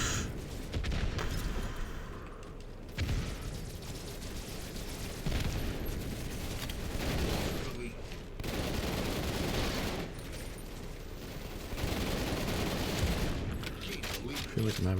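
Pistol gunfire and explosions in the Halo video game, a dense continuous barrage of shots and blasts with brief pauses, loud and busy throughout.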